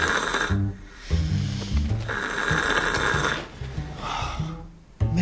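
A woman snores loudly in bed, heavy rasping inhales and exhales repeating in a slow steady rhythm, close and dominant with no talking.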